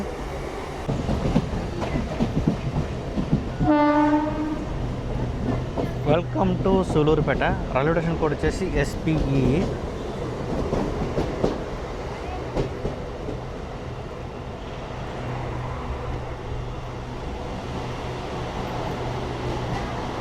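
A MEMU express train rolls into platform 2 at Sullurpeta station with a low rumble and rail noise, while a person talks over it and a brief horn-like tone sounds near the start.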